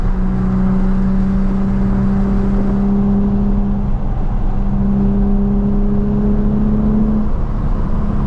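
From inside a Nissan 350Z, the engine pulls with a steady droning whine that climbs in pitch, drops at a shift, then climbs again under continuous road rumble; no voices.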